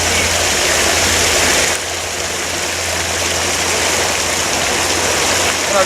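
Active water of an outdoor stream or pond flows in a loud, continuous broadband rush, dipping briefly and then carrying on steadily close by.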